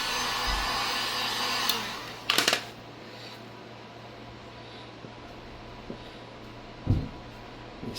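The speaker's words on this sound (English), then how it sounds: "We're going to hold that heat gun in one spot for too long." A heat gun blows a steady, close broadband rush over vinyl wrap on an AMR Racing Can-Am Ryker for about two seconds, then shuts off, leaving a quiet room with a few faint handling clicks and taps.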